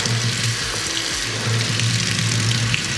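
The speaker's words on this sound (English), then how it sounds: "Hot water working." Hot water runs steadily from a kitchen sink faucet in a house walkthrough, a close, continuous hiss and splash with no speech over it.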